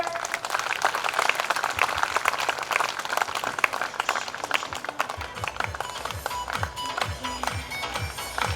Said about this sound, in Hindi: तो जोरदार तालियां बजाते रहे।